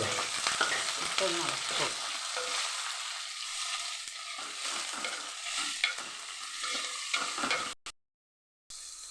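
Onions and green chillies frying and being stirred in a pan for cauliflower masala curry, a steady close sizzle with scraping stirs, then a brief dropout near the end.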